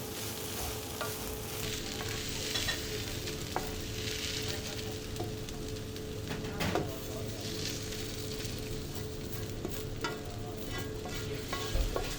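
Food being stirred and mixed in a hot pan in a home kitchen, a continuous sizzle with soft scraping of the utensil throughout, fairly quiet and close, with no talking.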